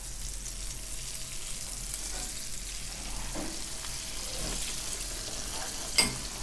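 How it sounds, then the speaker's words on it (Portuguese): Large beef steaks frying in already hot oil in a frying pan, making a steady, even sizzle at moderate loudness with a few soft pops and a sharp tap near the end. "na nossa frigideira com óleo já quente, ó, vamos colocar o nosso bife pra fritar"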